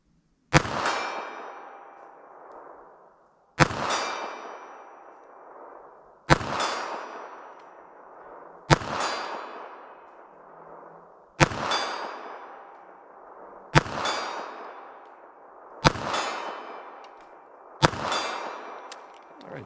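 Magtech .32 ACP hollow-point pistol rounds are fired at steel targets. Eight sharp shots come at a steady pace, each followed by a ringing clang that fades before the next one.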